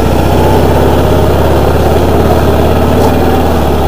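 Loud, steady drone of a heavy grader's engine running while being driven, heard close with a constant low throb and no talking.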